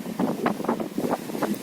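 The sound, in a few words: strong wind over the sea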